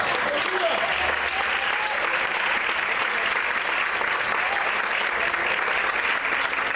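A church congregation applauds in praise during a sermon, a dense continuous wash of clapping that holds steady throughout, with a voice faintly present beneath it.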